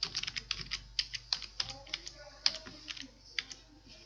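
Keys clacking on a computer keyboard in uneven bursts of quick, crisp taps, fairly close and quiet, with no talk.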